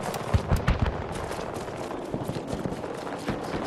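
Automatic weapon fire in Battlefield 2042 rattles close and loud, a series of rapid sharp shots in quick bursts over the ambient game noise.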